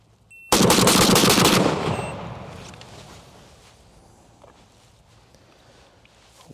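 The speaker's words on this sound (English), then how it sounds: "fire 7 rounds using a shot timer and go as fast as I possibly can" A Beretta shotgun fires seven rounds in a fast, rapid string, each loud close blast running into the next. Echoes and rustling fade away after the last shot.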